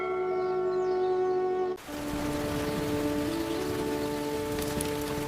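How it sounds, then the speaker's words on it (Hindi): Heavy rain falls steadily as a dense, continuous hiss with no voices, joined partway through by a change in the background with tonal layers over the downpour. "सुबह से बहुत तेज बारिश हो रही है।"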